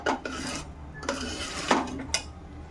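Rava dough for Uttar Karnataka Nagara Panchami undi being mixed in a pot, giving four scraping, clinking strokes of a utensil against the metal, spaced about half a second to a second apart, close by with no talking.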